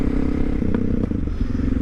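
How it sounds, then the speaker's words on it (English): A 1999 DR650 motorcycle with a loud FMF exhaust pipe runs steadily, a rough, throbbing engine drone with a few clattering knocks, close and loud, with no speech. "This is a much louder bike than mine."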